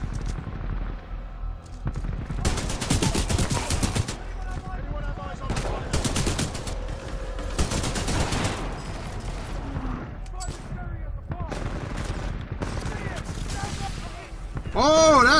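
Titanfall 2 combat erupts in repeated loud automatic gunfire bursts separated by short gaps, close and punchy, with a voice speaking between volleys.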